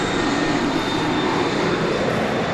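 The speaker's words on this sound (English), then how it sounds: "the rain sounds combined with plane engines is really" A steady, loud roar of airplane engines at Dallas Love Field in rain drones continuously, broadband and unchanging, with a faint high whine on top.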